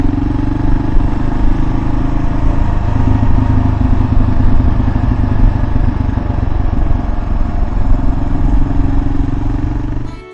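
A motorcycle engine pulls steadily in first gear on a gravel-strewn desert road along a cliff, a loud, continuous mid-pitched drone with a rattly edge that holds nearly unchanged throughout.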